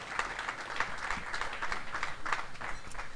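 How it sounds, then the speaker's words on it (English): Gala audience gives a small, fairly quiet round of applause, with distinct overlapping claps from a modest group rather than a roaring crowd. "give yourselves a round of applause for being a big part of that."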